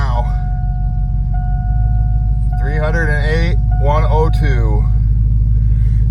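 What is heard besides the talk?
old pickup truck engine starting and running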